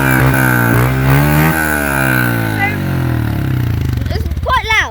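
A Honda CRF125F dirtbike engine revving up close, loud with a steady, rising buzz and a choppy idle toward the end, while someone talks over it.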